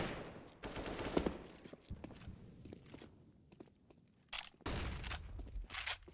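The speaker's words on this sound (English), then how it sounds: "Barrage of gunfire, though, coming out from Optic" Bursts of rapid gunfire crackle in quick volleys in CS:GO, some continuous and machine-gun-like, with quieter footsteps and clatter between them.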